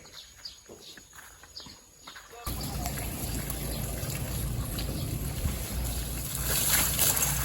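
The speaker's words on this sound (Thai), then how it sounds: "ตอนนี้เราอาบน้ำให้พลายงามนะครับผม" Elephant Phlai Ngam being bathed: quiet rustling gives way to a steady, loud wash of splashing and pouring water that continues unbroken to the end, with no talking.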